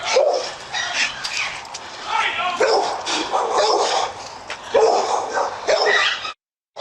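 Dogs bark and yip repeatedly during a police bodycam incident in which they stand over a person on the ground, loud and close in rough bursts, mixed with commotion, before a brief silence near the end.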